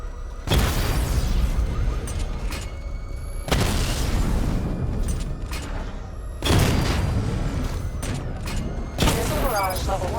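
Targets blown up by missile barrages in Batman: Arkham Knight, three loud booming explosion bursts with rumbling tails, one at a time at roughly three-second intervals, plus a smaller pop near the end.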